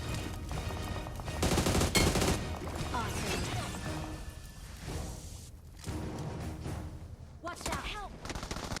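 Bursts of gunfire in a squad battle video game crackle and thump, including S1897 shotgun blasts, rapid automatic fire, heavy impacts and brief lulls, loud and chaotic throughout.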